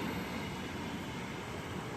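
Steady rumbling train noise fills the air at a Bangalore railway station, a continuous low roar with no distinct voices, like a train moving near a platform.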